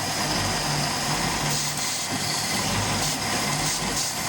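A MerCruiser Alpha One sterndrive boat engine idles with a constant low rumble and hiss, holding an even level throughout with no voices.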